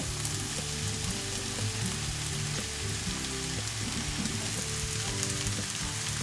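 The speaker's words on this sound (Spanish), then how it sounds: "En un poco de aceite caliente ponemos primero la parte blanca de la cebolleta" White parts of spring onion frying in hot oil, giving a steady, close, dense crackling sizzle throughout with faint stirring underneath, and no voices.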